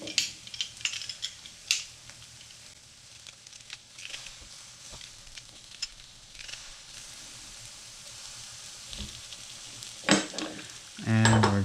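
Mushrooms with red pepper flakes and garlic fry in a pan, a continuous crackling sizzle broken by frequent scrapes and clicks of stirring, with a louder burst near the end.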